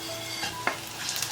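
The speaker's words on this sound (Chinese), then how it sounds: "接着把鸡丝倒回锅里" Shredded chicken goes back into a wok with ginger, garlic, dried chilies and Sichuan peppercorns, giving a close, steady sizzle and a quick scrape of stirring in a short burst.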